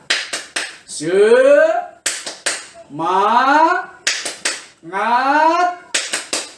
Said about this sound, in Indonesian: boleh kita kasih tepuk semangat